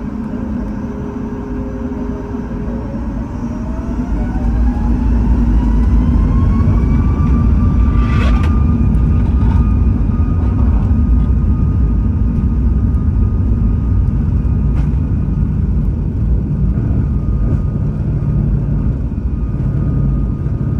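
Airliner cabin noise during pushback and taxiing: a steady low rumble with a rising engine whine that swells louder partway through, then holds as a constant drone.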